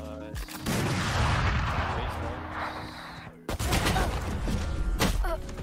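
Odin machine gun firing in a tactical shooter video game, dense sustained bursts with a brief gap, loud and close, mixed with other game sounds and excited player voices.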